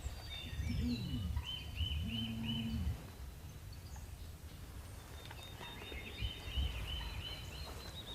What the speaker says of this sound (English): we hear him gobble